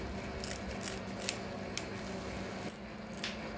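Scissors snip through a plaster volar slab, cutting a chunk from the top in several crisp, close clicks spaced irregularly over steady low background noise.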